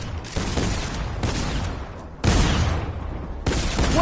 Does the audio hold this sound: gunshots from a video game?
yes